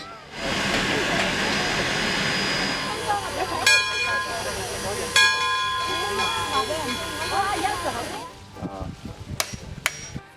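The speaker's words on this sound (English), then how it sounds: "Many ride the old-fashioned railroads that go through redwoods all the way to Santa Cruz Beach." Old-fashioned steam train running on a railroad through redwoods toward Santa Cruz Beach, with hissing steam, clanking metallic strikes and sharp whistle-like tones, close and fairly loud, with talk underneath.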